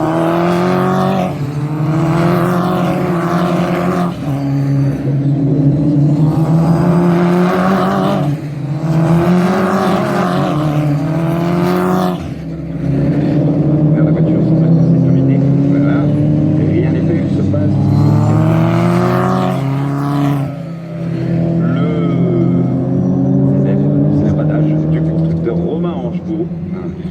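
Race cars accelerate around the Nogaro circuit, loud engines climbing repeatedly through gears in rhythmic surges with short lifts between, heard under continuous commentary.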